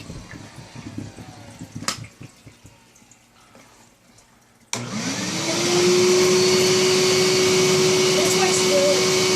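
An old Hyla vacuum cleaner switches on abruptly after a stretch of quiet room noise and faint talk, its motor climbing in pitch to a loud, steady whine and airy roar that continues to the end.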